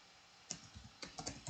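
Keystrokes on a computer keyboard entering a pip install command in a terminal: a quiet pause, then about eight crisp, close taps in an uneven burst with a short gap partway through, no voices.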